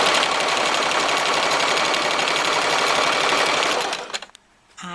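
A sewing machine stitching fabric strips for a fitted crib cover runs in a fast, loud, even rattle for about four seconds, stops briefly, then starts up again.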